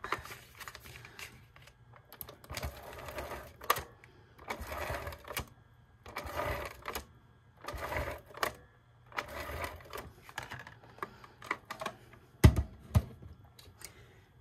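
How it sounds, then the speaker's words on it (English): Adhesive tape is pulled, pressed and rubbed onto paper for a coffee cup shaped craft pocket, in repeated short rustling bursts at close range with brief pauses between them. "So I am first going to add tape."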